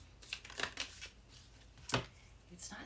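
Small tarot cards are shuffled in hand, with a few quick riffling and flicking bursts, close and soft, with brief pauses.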